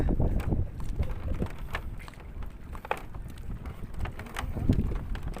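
Strong wind buffets the microphone in low, uneven gusts at a fish cage on open water, with faint intermittent clicks and chirps in the background.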